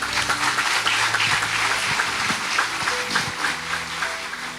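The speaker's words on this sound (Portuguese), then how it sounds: "Vamos aplaudir Jesus, pessoal." A church congregation applauding during a Friday evening healing and deliverance service, sustained dense clapping from many people filling the room with a steady, even texture.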